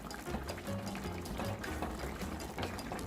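Hot water is poured into a pot of spinach callaloo with crabs, a continuous gurgling, splashing stream at close range, steady throughout with no speech.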